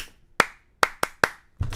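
Sharp, close hand claps ring out on a talk show: five distinct claps in an uneven rhythm, then a rougher burst of clapping at the very end.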